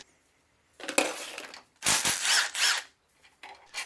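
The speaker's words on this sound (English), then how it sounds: "We'll go ahead now and remove the rest of the aft housing bolts." A wrench loosens the aft housing bolts on an Atomic 4 marine engine's reversing gear, giving a few short bursts of ratcheting and metallic clicking with quiet gaps between them.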